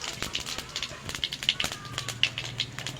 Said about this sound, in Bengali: তেলটা গরম হয়ে গেছে, আমি কটা জিরে ফোড়ন দিয়ে দেব।